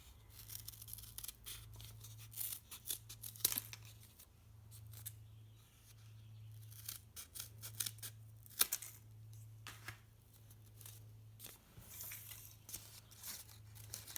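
Scissors snipping through folded paper for a kids' paper rosette craft, a steady run of close, crisp cuts with short pauses between strokes, alone with no talk.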